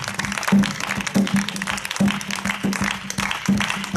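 A church congregation at a night healing prayer service in Grand-Bassam claps and acclaims in a steady rhythmic beat, with a low hum and voices running underneath throughout.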